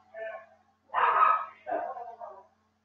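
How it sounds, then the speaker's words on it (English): A dog barks three or four times in quick succession, fairly close, with short pauses between barks and otherwise quiet surroundings. "Ignore the dog drama going on in the background."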